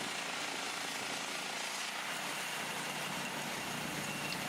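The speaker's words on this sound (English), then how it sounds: "using the Wood-Mizer bandsaw mill to cut this 2-inch thick board into a 1-inch thick" A Wood-Mizer bandsaw mill resaws a 2-inch-thick board down to 1 inch, giving a steady, dense mechanical roar and hiss that holds unbroken throughout with no pauses.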